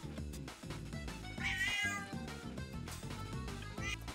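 A cat meows in the RPG video game Devas of Creation, a short mewing call rising over steady, rhythmic in-game music, with no talk.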